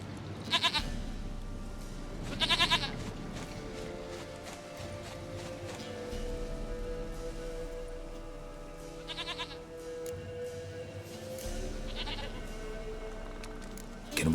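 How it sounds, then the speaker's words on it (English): A goat in the video game The Witcher 3: Wild Hunt bleats in several short, wavering bursts spaced a few seconds apart, clear and fairly close over a low, steady ambient game hum. "Goat of mine, dearest, sweetest goat."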